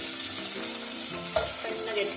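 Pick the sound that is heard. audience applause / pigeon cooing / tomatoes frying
tomatoes frying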